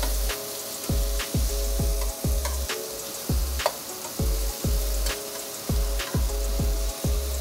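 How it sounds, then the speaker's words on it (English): Peppers and onions sizzle in a hot pan turned up high, a loud steady frying hiss broken by a regular rhythmic clacking of stirring, heard up close with no talk. "I turn that up high now because we want to caramelize the peppers and onions"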